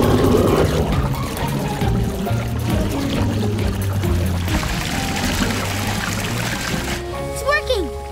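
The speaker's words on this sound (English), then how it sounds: "let's fill up the tub with water" Water pours and trickles into a bathtub in a cartoon scene, a steady splashing stream running under ongoing talk with music and sound effects.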